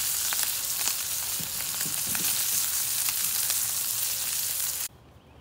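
Fish sizzles and fries in a pan during an outdoor family picnic by a pond, a steady loud crackling hiss with a few clinks of stirring, cutting off abruptly near the end.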